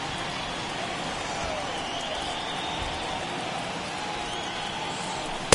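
Rain pours steadily over a baseball stadium in MLB The Show 21, a dense even hiss of falling drops that holds at constant level throughout.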